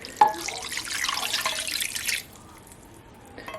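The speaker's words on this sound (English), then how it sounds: "let me get it covered with water and get this on" Tap water runs into a pot of chicken and broth on the kitchen sink, a steady rushing pour for about two seconds that then stops, leaving faint kitchen noise.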